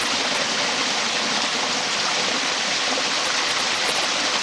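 A mountain waterfall and stream on Deogyusan pour in a dense, constant rushing roar, loud and close, steady for the whole stretch with no voices.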